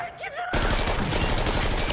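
Burst of rapid gunfire in a Squid Game scene: a short voice-like sound, then a sudden dense, loud volley of overlapping shots that continues to the end.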